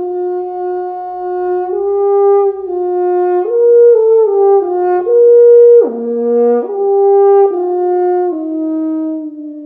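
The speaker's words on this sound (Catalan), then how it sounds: "I això són el que es diu trompes de caça." Hunting horns blow a series of loud, sustained brassy notes, shifting pitch in steps and overlapping in a simple repeated call, close and clear with no talk.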